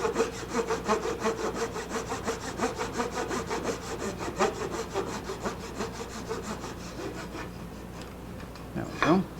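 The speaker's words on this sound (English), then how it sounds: "slice it off nice, as flush as I can get it." Hand saw cutting wood flush on a Martin 00 style acoustic guitar, a steady run of rhythmic back-and-forth rasping strokes up close that slows and stops near the end.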